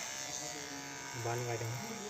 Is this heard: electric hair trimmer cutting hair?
yes